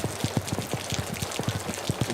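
Rain falling over a cricket ground, a steady broadband hiss with scattered drops pattering close by throughout, fairly loud and with no voices.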